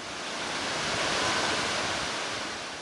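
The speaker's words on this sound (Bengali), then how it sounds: "একের পর এক বিশাল বিশাল ঢেউ আছড়ে পড়ছে কক্সবাজার সৈকতের ঝাবন ও বালুভর্তি জিউব্যাগে।" Huge waves crash one after another onto Cox's Bazar beach and its sand-filled geobags, a loud, continuous roaring surf that swells and fades with wind noise.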